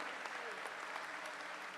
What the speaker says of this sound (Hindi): जोरदार तालियों से उनका भी अभिनंदन